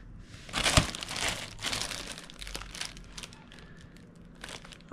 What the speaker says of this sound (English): go ahead and open up the plastic